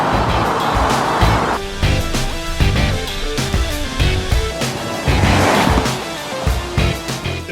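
A 2018 Audi Q7, Acura MDX and VW Atlas, all with 2.0L turbo engines, accelerate hard in a drag race, their engine roar and rushing wind swelling loudly and continuously with shifting pitch.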